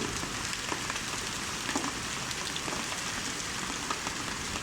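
Hail pelting surfaces during a night storm in Saudi Arabia, a dense, steady patter of hard stones that continues without pause, broken only by brief louder clatters of nearby impacts.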